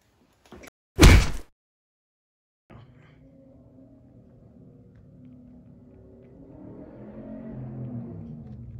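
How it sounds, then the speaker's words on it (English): A door is tried and stays shut: one loud clunk near the start, then after a pause a low, steady rumble that swells slightly toward the end. "The, the door won't open."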